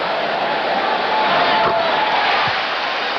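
Basketball arena crowd roaring and cheering for a Michael Jordan dunk during the 1992 playoffs, a dense sustained wall of noise from the seats with a brief swell midway.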